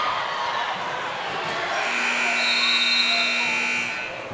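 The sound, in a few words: basketball game buzzer ending the quarter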